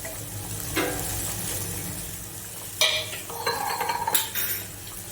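A spoon stirs and mixes Kathiyawadi dhokli shaak in a pan, quiet scraping with a few louder clinks of utensil against metal over a soft, constant cooking background.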